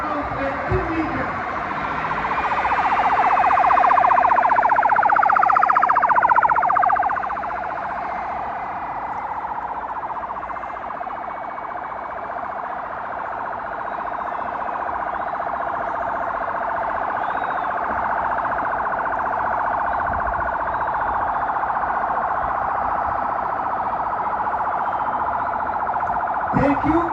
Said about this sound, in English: We have now proved that the siren and the roof lights are working.